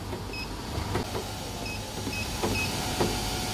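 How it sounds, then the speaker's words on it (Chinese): A VTOPS-L801 semi-automatic labelling machine jogs to peel labels, giving a steady motor hum with faint intermittent clicks and whines, close and moderately loud, with no talking. "先就点一下这个点动，它是可以正常脱标的"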